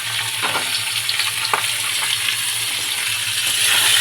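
Vegetables go into a pan where a hilsa fish head has already been fried crisp. A loud, steady sizzle follows, with light stirring clinks throughout.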